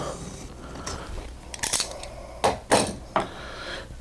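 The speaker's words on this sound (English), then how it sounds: "score it very gently around with a sharp razor knife" Sharp razor knife scoring around a wall switch plate during switch replacement, a few short scratchy cuts coming close together in bursts, near and fairly quiet, with no voices.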